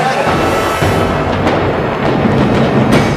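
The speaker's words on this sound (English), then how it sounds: "That was a nice explosion." A special-effects explosion set off on the film set of T2 3-D: Battle Across Time (1996) makes a loud, sustained, roaring blast rumble that fills the whole stretch and does not quickly fade.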